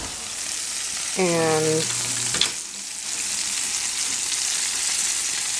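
Sizzling and frying from tomatoes blistering in a hot pan, a steady crackle under faint talk, with a brief tonal squeak and a sharp clink partway through.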